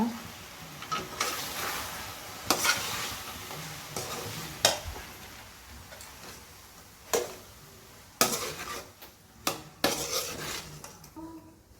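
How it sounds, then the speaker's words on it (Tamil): Metal spoon stirring and scraping bread cubes through thick Manchurian gravy in a pan, with repeated sharp clanks against the pan sides and a soft sizzle underneath, close and fairly loud. "பிரெட் ஆட் பண்ணி நல்லா கலந்துக்கோங்க"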